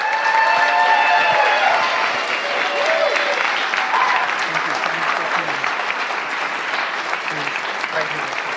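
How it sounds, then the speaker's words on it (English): A podcast audience breaks into steady, full applause for the evening's guest, a dense wash of clapping that fades slightly over several seconds, with voices mixed in. "if I could please get a gigantic round of applause for tonight's guest, Paul Selig"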